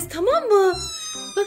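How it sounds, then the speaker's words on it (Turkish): Abandoned kitten meows in rising, drawn-out cries while being bottle-fed milk, close and clear, with someone speaking softly over it. "nasıl da miyavlıyor"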